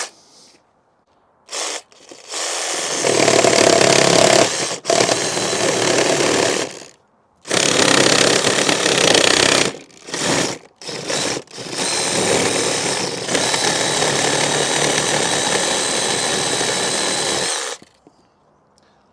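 A Sawzall reciprocating saw fitted with a 12-inch 3 TPI pruning blade cuts through wood in several loud, close bursts, buzzing harshly with short pauses between cuts before a long final stroke.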